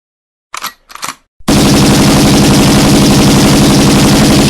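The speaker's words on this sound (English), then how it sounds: "Alright Unikitty and Robo Knight, get ready to open fire." Sustained machine gun fire erupts loud and continuous for several seconds after two short bursts of sound, with no talking over it.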